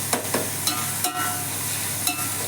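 Onions and green chillies frying in ghee for mutton white pulao, a steady close sizzle with a few brief stirring scrapes and clinks, no voices.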